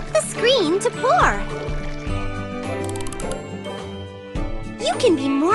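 A cartoon drink pours into a glass in the Strawberry Shortcake Sweet Shop mobile game, a bubbly liquid effect set among tinkly jingles, bright musical chimes and chirpy voice-like sounds.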